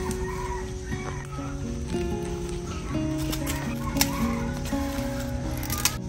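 Chickens cluck steadily around a countryside home kitchen, a dense, continuous chorus of overlapping clucks and a few sharper calls, fairly close and even in loudness, with no talking.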